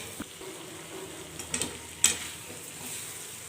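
Chicken fry sizzling in a pan, cooked with little oil and masala, a steady low crackle with a few soft stirring clicks near the middle, close and moderately quiet, no talking.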